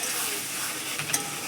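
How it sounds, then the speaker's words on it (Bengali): Ginger-garlic paste hitting hot oil in a pan for a home chicken curry, a steady bright sizzle with a few faint clicks of stirring, close and continuous. "এবারে আমি আদা রসুনের বাটাটা দিই।"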